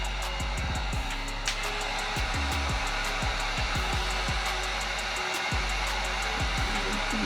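A heat gun blows with a steady, loud whoosh while warming a Gunskins rear grip wrap on a Glock 19, with a few faint knocks and handling clicks underneath.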